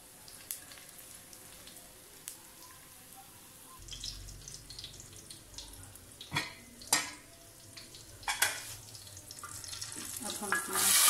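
Green chilies drop into hot tadka oil for dal mash, giving a quiet, crackling sizzle with scattered sharp pops and stirring clinks that grow busier toward the end.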